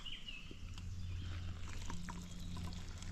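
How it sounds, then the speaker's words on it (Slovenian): Water, 300 ml, poured into a pouch of Good Mood Meals freeze-dried potatoes with a pork-and-beef minced meat sauce, a steady close trickle running for about three seconds over a low background hum. "Vlijemo 300 ml vode."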